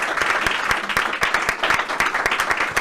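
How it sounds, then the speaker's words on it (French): Audience at a conference clapping for the panelists, a dense, steady patter of many hands at close-to-mid distance with sharper individual claps standing out, no voices over it. "Je vous demande d'applaudir nos panélistes,"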